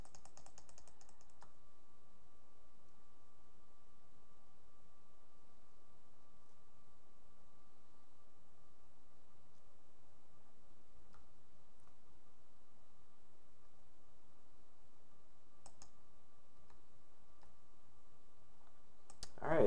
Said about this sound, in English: I just have to sit here and do a bunch of clicking.